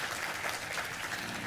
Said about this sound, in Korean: 우리 박수를 한번 환영해 주시기 바라겠습니다